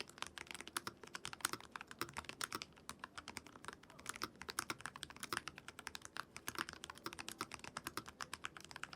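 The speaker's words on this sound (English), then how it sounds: "here's a little sound test of the NuPhy Air60 HE" Quick, steady typing on a NuPhy Air60 HE magnetic keyboard, dense light clacks close up with a continuous rhythm and no voices.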